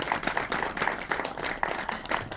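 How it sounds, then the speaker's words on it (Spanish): An audience at a lecture on geopolitics and religion claps in a faint, fairly rhythmic pattern. Separate claps pulse at a regular pace for a couple of seconds. "Así que un aplauso para Pablo."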